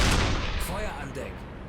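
A U-boat deck gun firing in the submarine game UBOAT, with a loud close blast at the start and its rumbling echo fading over a second and a half.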